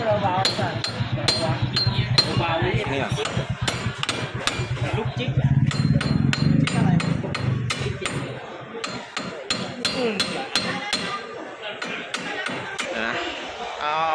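Hammer strikes on metal while a front wheel bearing is replaced on a Nissan Navara pickup: a long run of sharp, ringing blows in irregular bursts, close and loud, with someone talking between and over them.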